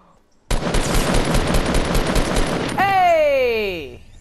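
Rapid automatic gunfire rattles loudly and close in Fortnite, a dense burst lasting a couple of seconds, then a descending whooshing tone fades out.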